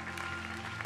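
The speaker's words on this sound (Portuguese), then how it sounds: "aplauda bem forte ao Senhor" A brief burst of clapping from a church congregation during a worship service, steady and moderately loud, lasting under a second.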